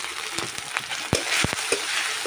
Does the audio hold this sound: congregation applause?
no